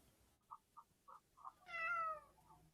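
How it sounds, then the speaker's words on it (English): A small cat gives a few short, soft chirps, then one louder drawn-out meow near the end, heard close against a quiet indoor background. "It's a cat. Little cat."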